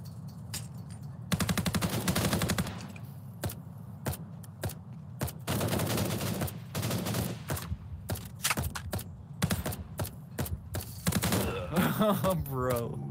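Rapid automatic gunfire bursts in the VR shooter Contractors, loud repeated volleys of machine-gun fire interspersed with single shots and short pauses, with people talking between bursts.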